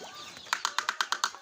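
Layer and broiler chicks in a brooder make a run of short, sharp, evenly spaced peeps and clucks over a soft background of faint chirping, heard close with no talking.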